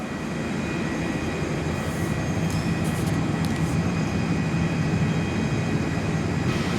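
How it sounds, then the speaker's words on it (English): A Virgin Australia Boeing 737-800 MAX jet departs Perth airport, heard from an indoor viewing platform as a steady, continuous broadband engine roar at a distance, with faint higher noises above it. "Virgin Aussie 737-800 MAX is departing the other direction now"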